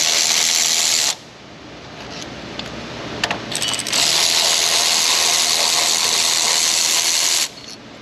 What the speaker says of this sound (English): Ratchet swap to the electron ratchet. More speed.